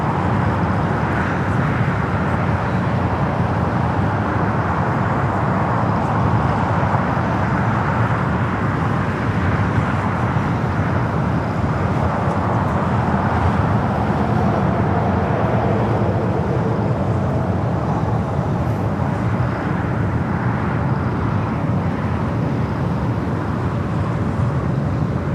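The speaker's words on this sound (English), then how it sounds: "777 with Cathay now heading into the gates there on the north side of Tom Bradley" A Cathay Pacific Boeing 777 taxis toward the north-side gates of Tom Bradley terminal at LAX, giving off a steady, broad jet engine rumble and whine that holds constant throughout, heard from a distance with no talk.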